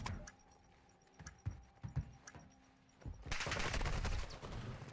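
Gunfire in a Call of Duty match at a collegiate esports league game: a few sharp, spaced shots for three seconds, then a dense, loud burst of sustained fire filling the rest.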